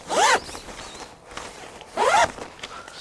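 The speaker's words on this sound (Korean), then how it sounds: "도어 지퍼가 굉장히 특이한데 이렇게 3중 지퍼예요" A triple zipper on the door of a Helinox Tactical Nona Dome 4.0 tent is pulled open twice, each pass a short, loud, rasping zip with a quiet gap between.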